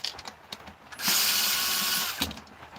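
A power tool whirs in one sustained burst of about a second as screws are taken out during disassembly, framed by scattered clicks, taps and handling knocks before and after.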